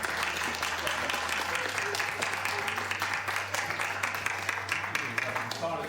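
In a chemistry classroom, students applaud their teacher with dense, continuous clapping over a low hum, with voices mixed in.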